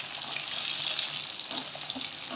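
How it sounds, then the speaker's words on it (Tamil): Chopped onion and about ten garlic cloves sautéing in a pan, a bright continuous sizzle close by with faint stirring, no talking. "இப்போ இந்த வெட்டி வச்ச வெங்காயத்தை போட்டுடுறேன். இதோட பூண்டையும் போட்டுடலாம். ஒரு 10 பல்லு பூண்டு. இதை கொஞ்சம் வதக்கிடலாம்."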